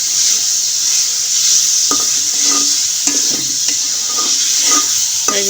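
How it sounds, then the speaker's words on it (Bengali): A spice masala for a Bengali tangra fish curry is stirred in a pan as it fries, a constant loud sizzle with spatula scrapes and taps at irregular intervals and no voices. "এসে দেখো আমার মশলাগুলো আমি একটু নেড়ে চেড়ে দিতেছি"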